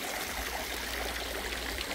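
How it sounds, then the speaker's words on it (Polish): Pool water runs steadily through a bucket filter, a continuous close trickling and splashing stream with no pauses and no voices. "Woda się cały czas filtruje i teraz pokażę, jak wygląda w tym momencie."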